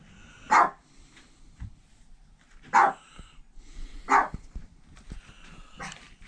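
Pet dog named Mufasa barking at a garbage collector, three or four sharp separate barks spaced a second or two apart, moderately distant indoors-sounding, with quiet background and no talking.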